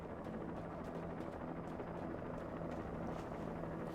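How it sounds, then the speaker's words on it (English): A video-game helicopter drones steadily with a faint rotor chop throughout, low and fairly distant in level, with no talk over it. "Forgot they had a fucking helicopter."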